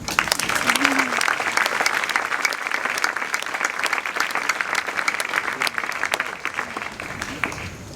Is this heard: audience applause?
yes